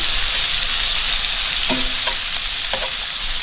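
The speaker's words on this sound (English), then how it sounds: "our bacon is frying up really nicely" Steady, dense sizzling of bacon frying in a pan, loud and continuous, with a few faint clinks of a utensil partway through.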